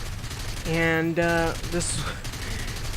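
Aircraft guns in War Thunder, German Air Force fighters, firing two quick loud bursts of rapid buzzing gunfire back to back, followed by softer mechanical clatter and engine noise, with a voice speaking briefly.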